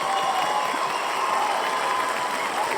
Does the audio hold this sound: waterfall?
no